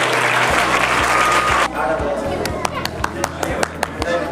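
Applause at a village school prize distribution: a dense burst of clapping from the assembled crowd, then thinning to scattered individual claps over a low steady hum, with voices in the background.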